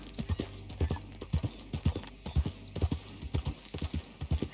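A horse in the game Red Dead Redemption II clip-clops along at a steady walk, hooves striking in a regular, moderately close rhythm against faint background ambience.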